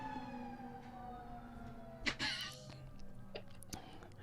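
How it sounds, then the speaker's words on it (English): A siren passes outside a house, heard faintly from a distance as a steady wailing tone, with soft voice sounds and quiet room noise around it. "did a siren pass your house at the same time it passed my house?"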